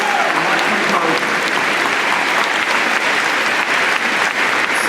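Sustained applause from a large audience at a Quakertown Community High School graduation ceremony in 2014, steady and dense throughout without a break.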